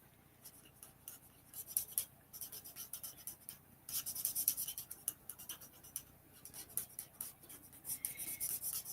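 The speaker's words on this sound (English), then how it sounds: "as I'm coloring here" A coloring pencil or marker rubs across paper in quick scratchy strokes, soft and close, repeated in uneven bursts with brief pauses between them and no voices.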